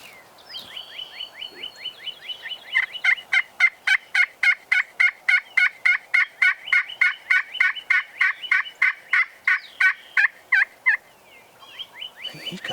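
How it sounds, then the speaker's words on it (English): A wild eastern turkey gobbles in a long, steady run of rapid repeated notes, loud and fairly close outdoors, with the rolling calls pulsing evenly for several seconds before trailing off. "Sounds to me like he's gobbling at the call."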